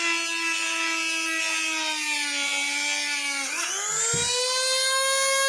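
A drill machine bores holes into a bamboo flute, its steady high whine of stacked tones running alone, dipping briefly in pitch under load before climbing back to full speed.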